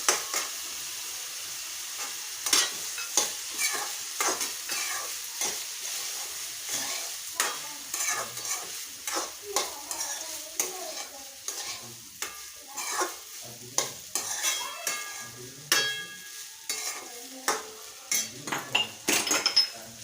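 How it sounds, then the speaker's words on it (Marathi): Cooked rice is stirred into a lemon rice pan, with a spoon making frequent clinks and scrapes against the metal over a faint background sizzle. "आता शिजवलेला भात आपण ह्याच्यात घालूया"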